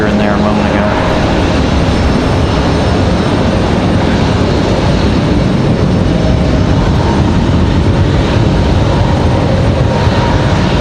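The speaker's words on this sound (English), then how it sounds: "We do have that American departing out of here" An American Airlines jet airliner departing at Raleigh-Durham International airport, a loud, continuous engine roar that fills the whole stretch with steady broadband rumble.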